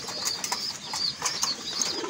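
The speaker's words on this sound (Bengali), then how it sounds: "অনেকগুলো কবুতর" Pigeons in a backyard coop, some of them sick, make soft repeated coos with light wing flutters, close and steady throughout, with no talk.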